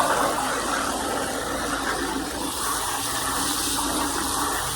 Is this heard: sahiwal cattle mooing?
no